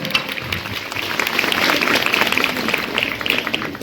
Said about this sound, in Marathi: टाळ्या होऊन द्या सगळ्या.